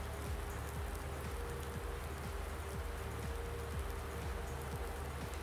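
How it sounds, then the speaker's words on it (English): Rain falling in the farming video game Farming Simulator 19, a dense, steady patter of raindrops on surfaces that stays even and continuous, with no voices over it. "Yay, we got rain."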